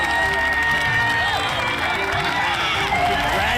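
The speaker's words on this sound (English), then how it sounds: "the crowd is loving it" A crowd at the 2021 Big Buck World Championship, a hunting arcade game contest, cheers and shouts steadily throughout, a dense wash of voices with whoops rising over it.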